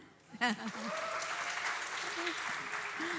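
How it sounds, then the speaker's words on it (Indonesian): Audience applause rises as a dense wash of clapping, with a speaking voice over it. "kok nggak ada yang tepuk tangan?"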